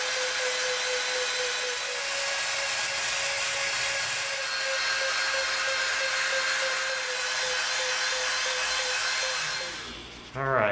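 A rotary tool bit grinds and shapes EVA foam with a steady, loud high-pitched whine that runs almost unbroken for about ten seconds before it spins down and stops.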